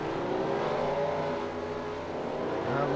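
A stock race car on pit road at Bristol during a race, its engine droning and revving steadily at close range alongside other motor noise, loud throughout with no voices.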